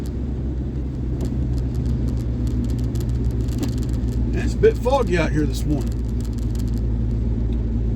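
Big old truck engine rumbling while driving, a low steady drone running the whole time close up beneath someone talking on a foggy morning.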